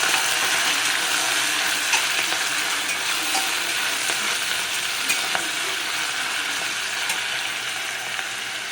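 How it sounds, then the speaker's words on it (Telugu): Fenugreek leaves and onions fry in a pan while being stirred, producing a loud, steady sizzle with rapid scraping and rattling from the utensil against the pan. "మళ్ళీ కొంచెం కలబెట్టాలి."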